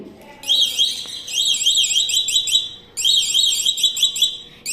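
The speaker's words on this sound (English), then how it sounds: "Once the garbage collector goes beyond the limit, the alarm will ring." The overflow alarm on a school science exhibition model of a garbage collector rings loudly nearby as a shrill electronic warbling siren in two bursts with a brief gap between them.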